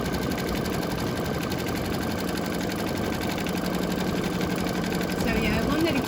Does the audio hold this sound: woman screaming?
no